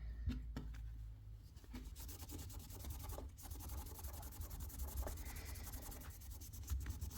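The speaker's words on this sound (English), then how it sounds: "Okay, let's start rubbing it." A custom car badge is rubbed to take off leftover glue, making quiet, close, scratchy strokes that rise and fall in a steady back-and-forth rhythm with no voices.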